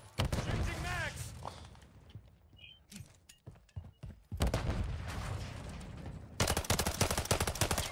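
Bursts of automatic gunfire in the video game Modern Warfare III, loud clusters of rapid shots separated by quieter gaps with scattered single reports, with a voice talking in between.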